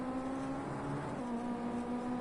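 A Ginetta Junior race car engine heard onboard at Brands Hatch, a steady droning tone held at fairly constant revs, moderately loud and alone.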